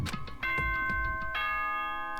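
School announcement chime in the Danganronpa: Trigger Happy Havoc video game, a bright multi-note bell-like ding-dong melody with sustained ringing tones, clear and alone.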